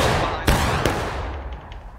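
Musket volley from War of Rights, a Civil War battle at Dunker Church: two sharp crackling blasts close together followed by scattered distant shots in a noisy battlefield.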